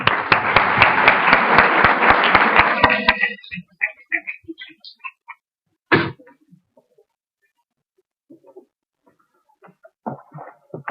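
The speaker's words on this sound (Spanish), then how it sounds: "Un fuerte aplauso." An audience at a nursing conference gives dense, loud applause for about three seconds, which quickly thins to a few scattered claps, then gives way to faint rustling and murmuring.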